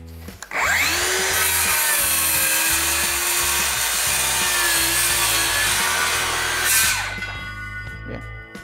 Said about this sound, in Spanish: dejar que la sierra acelere a su velocidad correspondiente y después entrar con el corte